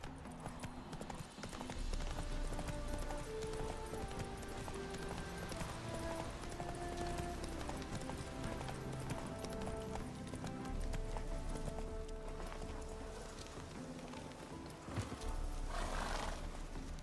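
Horse hooves clip-clop steadily and a horse neighs in The Witcher 3, close and clear over continuous game music.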